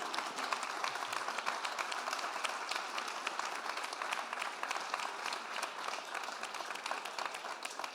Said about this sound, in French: Et puis applaudissez-les déjà parce que je pense que ça va leur faire du bien.